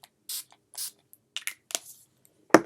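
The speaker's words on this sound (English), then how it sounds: "I'm going to be using my NYX primer spray to prep my skin" NYX primer spray misted onto the face: two short hissing bursts close by, followed by light rubbing and patting sounds and a final louder tap.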